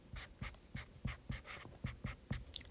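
A teacher handwrites Chinese characters, making a run of quick, evenly spaced scratchy strokes, about ten short pen scrapes in a soft, close rhythm with no talking.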